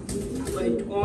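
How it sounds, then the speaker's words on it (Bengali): Fancy pigeons coo at a pigeon farm, a few soft low throaty coos heard close by in a short burst, with a voice speaking over them. "আপনাদেরকে কবুতর গুলো আবারও একবার দেখাচ্ছি।"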